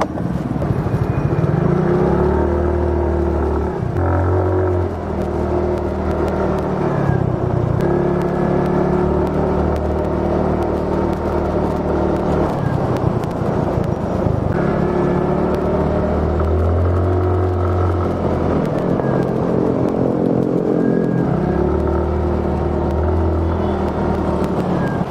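Suzuki Nex Crossover scooter underway, its small engine humming steadily and revving up and down through repeated swells, with wind and road rumble close and continuous, no talking.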